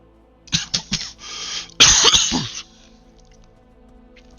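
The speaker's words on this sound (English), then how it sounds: "That sudden coughing fit came out of nowhere and was a lot louder than I was expecting it to be." A sudden coughing fit from one person, several sharp close coughs in quick succession followed by a harder burst of rough hacking, then quiet.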